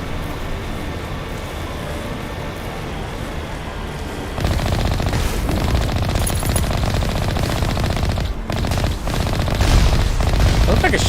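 Rapid automatic gunfire aimed at incoming rockets in Mass Effect Legendary Edition. A quieter stretch of game noise gives way to loud, dense, sustained bursts of shooting with booms, and a voice occasionally cuts in.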